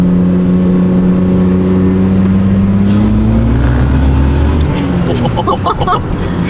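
A supercharged 300 hp G Power BMW M3 accelerates hard in second gear, its engine drone rising steadily in pitch, loud and close from inside the cabin, with a brief burst of tire or mechanical noise near the end.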